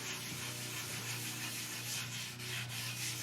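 Steady, close hand sanding of a wooden electric guitar body with sandpaper, a continuous gritty hiss over a low hum, with no talking.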